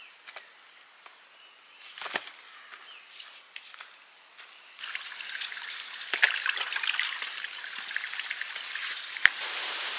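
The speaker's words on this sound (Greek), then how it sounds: "Δεν είναι απίστευτο ότι αυτά τα ριάκια φέρνουν καυτό νερό." Small streams of hot water trickling and dribbling in the Patagonian wilderness, a soft steady flow with faint intermittent drips, louder and fuller in the second half.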